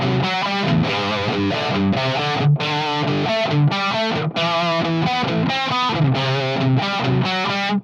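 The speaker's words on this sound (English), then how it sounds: "Version 2 of this really cool hairband riff with the magical chords." Choppy hair-band rock riff on a heavily distorted electric guitar, built on the four magic chords, played loud and continuous with short rhythmic stabs and brief gaps between chord hits, no voices.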